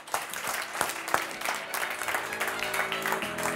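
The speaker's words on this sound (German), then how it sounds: "darum einen riesengroßen Applaus für Anja Graf" A studio audience applauds a guest, Anja Graf, arriving on a talk show stage: dense, steady clapping from a crowd, fairly close and sustained throughout with a few sharper individual claps standing out.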